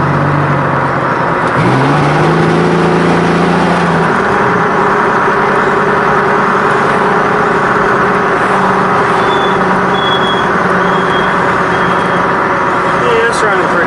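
Old work van engine running steadily while driving on the road, a loud constant drone with a low rumble and a shift in pitch early on as it picks up speed.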